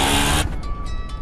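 An auto rickshaw engine roaring loudly at first, then dropping to a lower idle-like rumble with a faint tonal whine, heard close.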